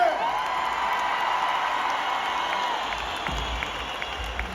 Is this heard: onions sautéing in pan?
no